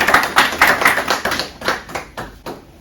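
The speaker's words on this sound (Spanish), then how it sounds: "Un aplauso para Pablo." A small audience at a talk applauds a guest named Pablo, a close, fairly loud patter of hand claps in uneven bursts that gradually taper off.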